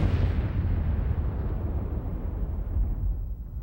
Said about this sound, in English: this fireball exploded.